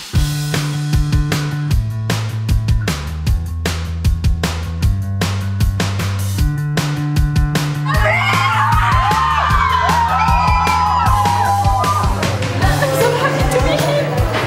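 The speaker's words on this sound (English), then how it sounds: "Coolest thing ever to have people screaming for me or whatever they're doing." Fans at an autograph signing in Mexico scream and whoop, rising over a loud, steady rhythmic music beat with high shrieks in the second half.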